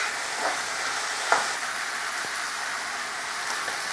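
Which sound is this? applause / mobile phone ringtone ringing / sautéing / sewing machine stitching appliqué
sautéing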